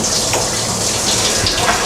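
Water streaming from a high-pressure handheld shower head, a loud, steady rushing spray close by with no voices.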